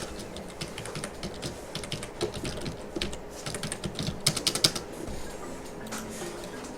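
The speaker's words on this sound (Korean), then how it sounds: "컨트롤 S 눌러서 저장하세요." A computer keyboard in an AutoCAD drawing session, clicking away in a quick run of keystrokes that grows denser and louder toward the end, close and without talk.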